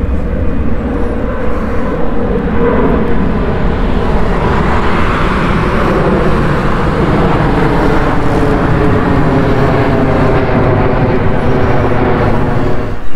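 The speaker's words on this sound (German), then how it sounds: "Rüsselsheim ist hier wohl die Landeeinflugschneise." An aircraft on the landing approach path near Rüsselsheim passes overhead, a loud continuous roar mixed with road traffic noise from nearby, steady throughout without speech.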